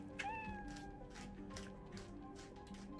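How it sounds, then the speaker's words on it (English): A house cat gives a drawn-out meow, then a few softer follow-up mews, close and fairly quiet over light background noise. "There's my cat."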